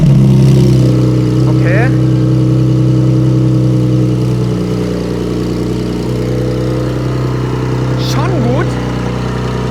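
G-Power tuned Porsche 992 Turbo S engine idling loudly and steadily close by, with short blips of revving early and near the end; people talk briefly over it.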